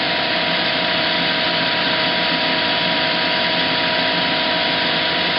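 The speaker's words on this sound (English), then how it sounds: "so we'll turn the motor back on" A metal lathe motor runs while a spacer is cut to length, giving a continuous, even, broadband whir with a steady hum, close and unbroken for the whole stretch, with no talk.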